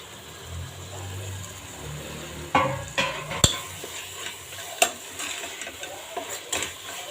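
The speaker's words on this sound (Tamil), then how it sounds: "ரெண்டுத்தையும் ஒன்றா போட்டு வதக்கிடலாம்" Mint and coriander leaves are sautéed together in a pan for kuska made with everyday rice, with a soft low sizzle under scattered scraping stirs and clinks of a spatula against the pan.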